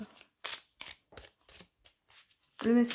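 Cards from a Messages de Lumière oracle deck are shuffled and drawn in a run of short, crisp papery bursts, close and fairly quiet, before a voice comes in at the end.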